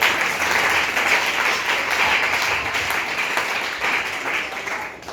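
A church congregation applauds and cheers for the Lord during a French sermon, a dense and loud wash of crowd clapping and voices that holds steady throughout.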